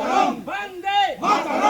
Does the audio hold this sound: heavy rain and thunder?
no